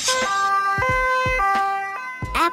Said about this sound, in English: a fire rescue truck used at airports to handle emergency situations.